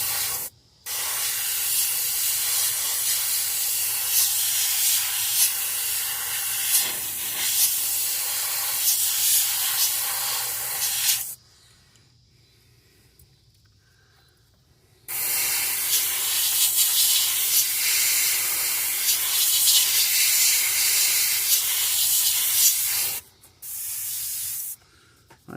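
Airbrush paint spraying onto a largemouth bass fishing lure, a close, loud steady hiss in two long bursts separated by a few seconds of near silence, then a short final burst.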